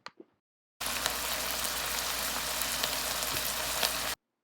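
Venison browning in a pan gives off a steady, dense sizzle and crackle for several seconds, close and fairly loud, after a couple of brief clicks at the start.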